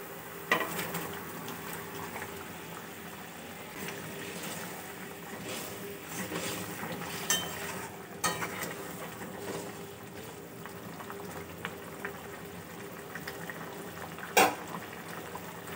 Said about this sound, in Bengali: গ্রেভিটা ভালোভাবে ফুটে গেছে